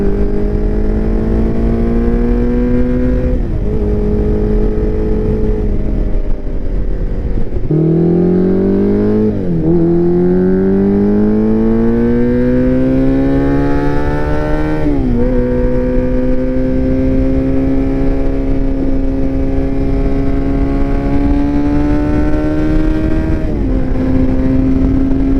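A rare vintage Yamaha motorcycle rides along a road, its engine droning steadily loud and close, with pitch rising through gear changes and dipping briefly between shifts.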